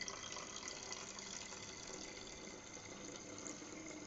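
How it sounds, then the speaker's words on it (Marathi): Tap water runs steadily into a spray bottle in a home kitchen, a continuous close hiss and splash throughout with no voices. "स्प्रे बॉटलमध्ये टाकायचं आहे आणि याच्यात आता आपण पाणी भरणार आहोत."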